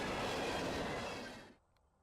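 A freight train led by KCSM grey locomotives rolls past at a siding, a dense rumbling roar that holds steady and then fades away abruptly into quiet.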